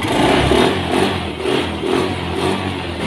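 A Honda Beat scooter whose battery keeps going flat revs hard under the throttle, with a loud, close engine roar that swells and dips in short pulses.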